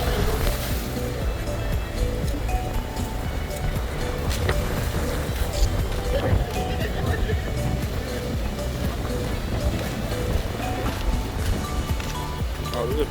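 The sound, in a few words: big ocean waves breaking at Curacao shore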